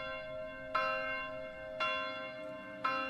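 Church bell tolling in the medieval village-building game Manor Lords, three resonant strikes about a second apart, each ringing out with a long humming decay, heard alone and moderately distant.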